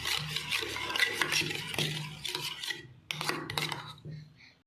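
Egg mixed with salt and chili is stirred briskly in a bowl, making rhythmic scraping and rubbing strokes up close. A brief pause comes partway through before the stirring resumes and fades out.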